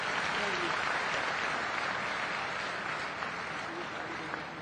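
An audience applauds at the Surat Diamond Bourse inauguration in Gujarat, a continuous, even wash of clapping from a large crowd, sustained throughout at moderate distance.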